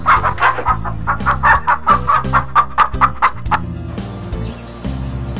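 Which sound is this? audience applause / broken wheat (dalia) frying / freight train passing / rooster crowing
rooster crowing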